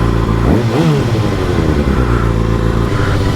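A 2019 Kawasaki ZX-6R fitted with a Yoshimura Alpha-T exhaust revs loudly up close, its engine note climbing sharply and then settling into a steady throaty idle, with no talking.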